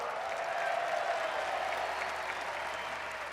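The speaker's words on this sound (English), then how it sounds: "give Johnny Red a round of applause." Steady applause from a crowd at a Chicago Bulls halftime ceremony, a continuous wash of clapping that holds at an even level throughout.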